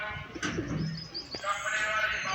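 A pigeon coos softly nearby, with light chirps and rustling in the background.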